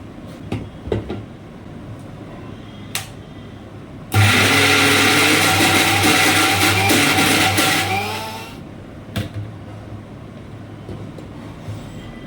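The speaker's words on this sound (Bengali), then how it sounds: "এটা এবার মিক্সিতে পেস্ট করে" A kitchen mixer grinder whirs loudly as it blends green chillies, ginger, garlic and prawns into a paste, running steadily for about four seconds before winding down, with faint clatter before and after.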